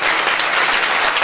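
A crowd at a spiritual gathering's speech claps steadily and loudly, a thick, even wash of hand claps close by with no talking over it.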